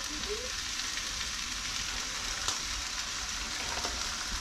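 Oil sizzling in a frying pan ahead of cooking wild game sausage, a steady, even hiss throughout with a few faint clicks, close and moderately quiet; no talk.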